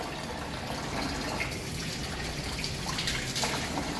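Hot water runs continuously from the tap of a low-budget electric water geyser, a steady hissing splash with faint dripping, close and moderately quiet, with no voices.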